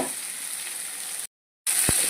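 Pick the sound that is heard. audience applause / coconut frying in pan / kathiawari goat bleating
coconut frying in pan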